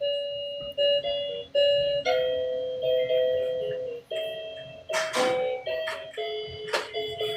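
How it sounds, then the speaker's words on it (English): Noisy electronic toy chiming a bright, tinny melody of repeated bell-like tones, with a few sharp clatters partway through, fairly close in a quiet room. "Why in the world do we have noisy toys like that in our house?"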